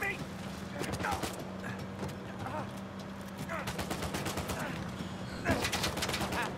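Rapid bursts of gunfire from a firefight in the video game Uncharted 4, repeated volleys of sharp shots over a steady background, continuing throughout with a louder burst near the end.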